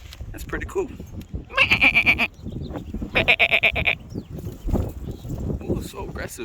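On a hiking trail, a goat lets out two loud, close, quavering bleats about a second apart, amid rustling and footsteps, with a person talking in between.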